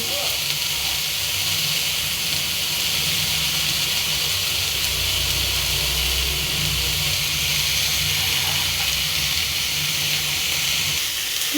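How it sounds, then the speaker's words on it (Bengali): Greens sizzle and fry in a hot pan during home Bengali cooking of pumpkin and Malabar spinach, a steady loud hiss running unbroken throughout, close up. "এটাকে ভালো করে ভেজে নেব"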